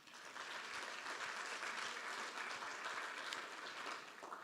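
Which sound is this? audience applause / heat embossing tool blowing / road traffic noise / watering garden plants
audience applause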